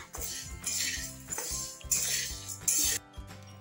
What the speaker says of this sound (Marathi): एकसारखं कालवून घेऊ।